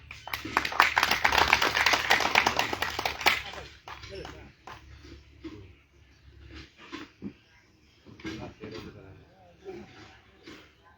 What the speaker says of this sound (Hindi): और इनके लिए एक जोरदार तालियां हो जाए।